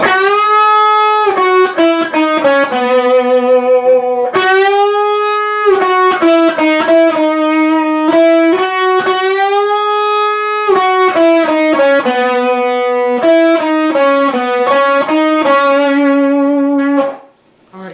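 A bright, sustained electric guitar line played in two-voice harmony, with bends and slides between held notes, loud and clear with no talking.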